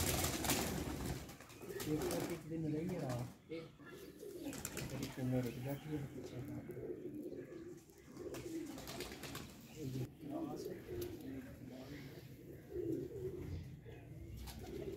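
Rare show pigeons on a rooftop coo and call repeatedly close by, their low burbling notes running under steady conversation from several people throughout.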